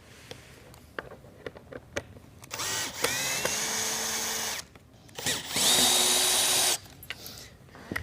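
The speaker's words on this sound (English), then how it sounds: "So the first thing we have to do is remove all of our hinges." A power drill removes hinges from a Palm Beach Polysatin shutter panel, with several loud whirring bursts of a couple of seconds each, separated by quieter gaps and short clicks, close by and without talk.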